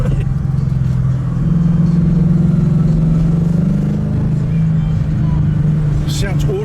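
A tuned 2017 Ford Mustang GT with an aftermarket exhaust gives a loud, steady, deep engine drone heard from inside the car, with voices talking over it.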